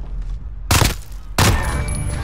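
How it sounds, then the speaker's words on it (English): Two loud, close blasts from a Semtex grenade in a first-person shooter, each a sharp explosive burst followed by a brief rumbling tail, standing alone with no talking. "Oh, I got the guy with the grenade"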